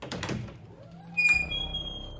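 A door swings open in a Hindi audio drama as a woman enters a dark room: a soft thunk and creak, then a brief bright ringing chime rising over a low background hum, without talk.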